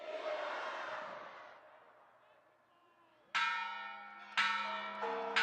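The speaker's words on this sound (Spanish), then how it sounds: "se escuchó la campana de Dolores y las de la catedral" Crowd noise fades after cheers of Viva México, then loud church bells, including the Dolores bell and cathedral bells, strike one after another, each leaving a long, resonant ringing tone that overlaps the next.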